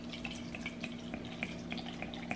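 Spring water trickles and drips from a home water dispenser into a container, a steady close-up flow of small droplets over a low constant hum.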